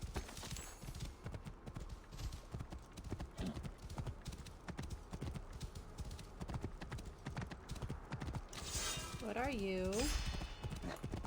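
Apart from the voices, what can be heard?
horse hooves and neighing in video game Assassin's Creed Origins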